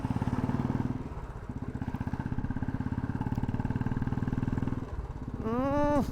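A freshly serviced motorcycle idles steadily nearby with an even, rapid engine thump, then briefly revs upward near the end in a rising whine.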